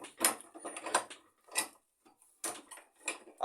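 A 1-1/2 inch pipe wrench tightens a pipe fitting at an elbow. Quiet, close metallic clicks and scrapes come in several short, uneven bursts with brief pauses between them.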